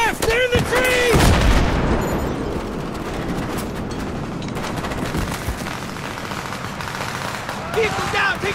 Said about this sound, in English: Taking fire from the left!